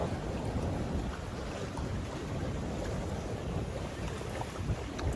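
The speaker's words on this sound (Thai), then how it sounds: "เหมือนอยู่ริมทะเล มีลมมีคลื่นตามปกติ" Steady wind gusting over open water with lapping waves at the Lam Pathao reservoir in Chaiyaphum, a continuous rushing roar with heavy microphone wind noise and no voices.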